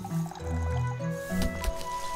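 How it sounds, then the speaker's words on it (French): Plants being watered in the shop-management video game Winkeltje: The Little Shop, a short series of soft squishy liquid drips and splashes layered over light background game music. "J'arrose."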